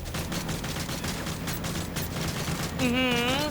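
Gunfire in the video game Call of Duty Modern Warfare 3 comes as a dense burst of rapid shots throughout, with a rising whine near the end.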